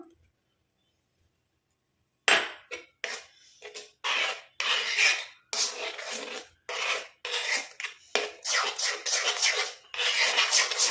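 Homemade hair dye being stirred together with rice water in a bowl, giving a steady run of close, rasping scrapes in short repeated strokes with brief gaps, starting after a couple of seconds of silence.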